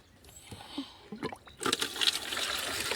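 Water gushes from a hose into a container, a steady rushing stream that starts partway through after a few quiet knocks and handling sounds, then continues loud and close.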